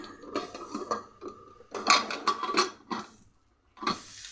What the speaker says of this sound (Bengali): এবার প্রেশার কুকারের ঢাকনাটাকে ভালো করে আটকে দিয়ে